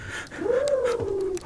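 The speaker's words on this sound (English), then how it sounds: "is that a bird?" Bird call in the Close Enclownters 2 video game, a single drawn-out hooting coo that rises and then slowly falls, moderately loud over low background noise.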